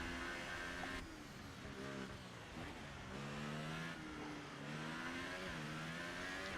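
A racing video game car engine on a flying lap of a Hungarian Grand Prix circuit, droning steadily at high revs with gear changes rising and falling, loud and continuous throughout.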